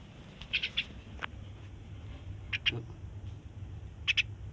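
Faint, brief bird chirps in small clusters, spaced apart over a quiet background hum.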